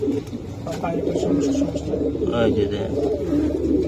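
Domestic pigeons at a breeder's loft give soft, low cooing, continuous and close, while people talk nearby.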